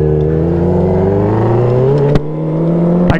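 A Mustang GT engine revs hard up close, a loud, steady rising roar that climbs in pitch, with a brief dip and a quick second surge near the end.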